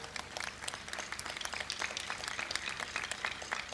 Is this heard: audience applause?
yes